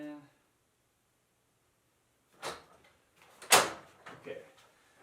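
A sheet aluminum brake clamp is locked down on aluminum siding stock, giving a couple of sharp metallic clunks and a rattling scrape close by after a short silence.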